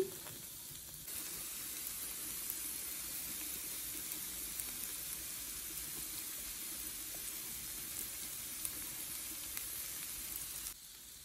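Chopped bell peppers fry in a pan, giving a soft, continuous sizzle that holds steady throughout, close but fairly quiet, with no voices.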